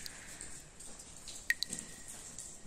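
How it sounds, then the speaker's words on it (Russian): Water dripping inside the Iograf cave, an ancient temple site, with a few sharp distinct drops standing out over a faint hollow background hiss, no talk. "Капля за каплей капает."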